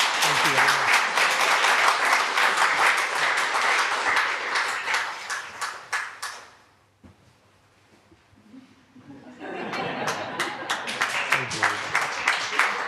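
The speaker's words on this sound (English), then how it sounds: "A round of applause for her." Audience applause at a holistic yoga event, a sustained round of dense clapping that dies away to near silence midway, then swells back up loudly, with a speaker's voice mixed in over parts of it.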